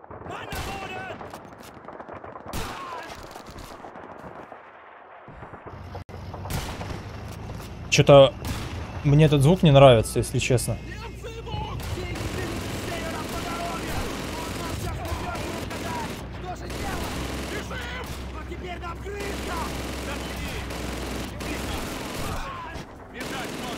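Gunfire in the World War II shooter Call of Duty 2 crackles in bursts of rifle and machine-gun shots with booming blasts, loudest around the middle, over a continuous battle rumble, with someone talking at times.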